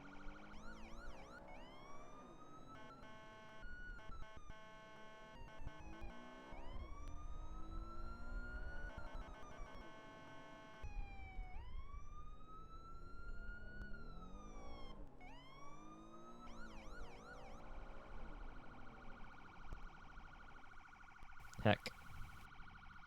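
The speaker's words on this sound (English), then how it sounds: "Custom sirens, uploaded by myself." Video-game police sirens built to match real New York State Police tones cycle through long rising wails, quick yelps and steady tones over about twenty seconds, loud and up close, with a sharp burst near the end.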